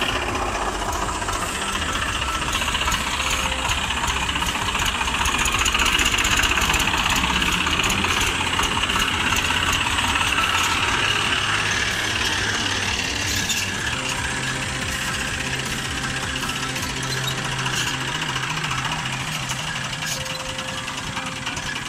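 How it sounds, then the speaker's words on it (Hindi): A 35 HP tractor engine runs throughout a pulling demo, a loud continuous rough diesel drone with rapid knocking pulses, steady and close. "किसान भाइयों आइए देखते हैं कितनी जान लगाता है ट्रैक्टर, इसका पूरा डेमो देगा।"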